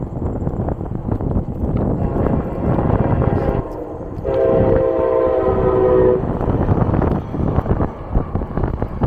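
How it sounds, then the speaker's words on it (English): Beside the BWI Trail, a train rumbles past with loud, continuous wheel clatter and wind buffeting on the microphone, and a sustained horn blast sounds for about two seconds midway before the rolling noise carries on. "So we're near the trains."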